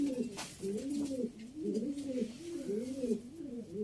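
Pet pigeons coo nearby in a loft, a repeated rolling, throaty coo-roo pattern in several close bursts, low and steady with no talk.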